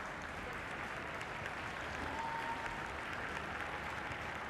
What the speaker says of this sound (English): Nice to hear the applause as they go off the field.